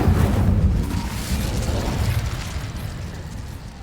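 An Incendio fire spell bursts in Hogwarts Legacy, a loud, close boom that rumbles low and then slowly tails off over several seconds, with no voices.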